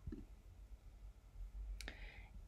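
Mouse clicks on a web platform: a soft click near the start and a sharper double click later, faint and close against a quiet room background, no talking.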